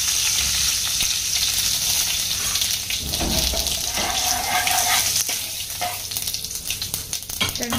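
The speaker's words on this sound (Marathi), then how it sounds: "बटर चांगलं मेल्ट झालं की मग त्यात आपल्याला मोहरी टाकायची. मोहरी टाकल्यानंतर कढीपत्ता टाकायचा." Mustard seeds and curry leaves sizzle in melted butter in a home kitchen pan, a loud continuous frying hiss with occasional stirring clatter and crackles, and no speech.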